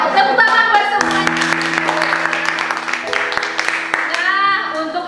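Clapping from a classroom full of people, steady and fairly loud, mixed with children's voices calling out over it.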